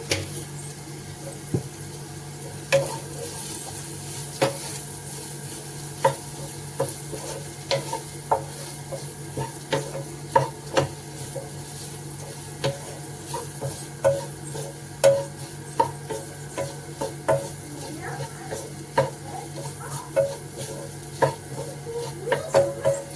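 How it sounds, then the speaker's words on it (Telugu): Ivy gourd fry with tempering is stirred in a pan, soft steady sizzling under irregular clicks and taps of a spoon against the pan, close and moderately loud for a long stretch. "ఇప్పుడైతే ఇందులో తాలింపు కూడా వేసేస్తున్నామంటే మన దొండకాయ ఫ్రై కూడా అయిపోతుంది"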